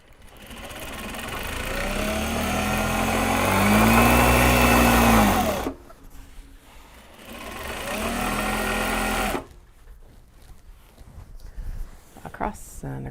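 A sewing machine stitches a Japanese fabric tote bag, its motor whirring in two long, steady runs separated by a short pause, close and fairly loud, with quieter rustling afterward.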